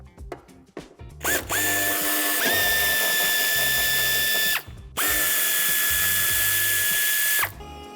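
A power drill whirs in two long bursts, removing Torx bumper screws on a 2017 Fiat Scudo III, with short ratcheting clicks and handling noise before the first run.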